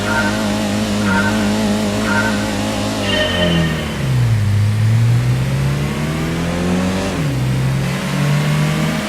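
Race cars in Gran Turismo 1 on PlayStation, engines revving loudly and shifting pitch through gear changes, with screeching tire squeals as the cars corner, continuous throughout.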